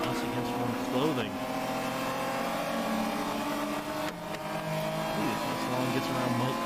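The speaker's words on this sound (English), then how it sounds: "Show everybody what a real race car can actually do there, George." Race cars roar past on a circuit during a Spec Z club race with BMWs in the field, their engines a loud, continuous rising and falling drone under a commentator's steady talk.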